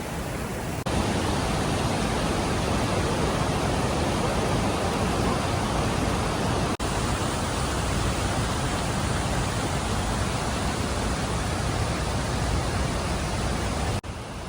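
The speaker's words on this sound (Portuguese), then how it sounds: "A cachoeira aqui." A waterfall at a river source in Guatemala pours with a constant, dense hiss and roar that stays even and close for the whole span, with no voices.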